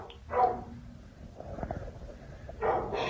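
A dog barks and yelps inside an abandoned building, a few sharp calls at the start and again near the end, with rustling and movement in between and no talk.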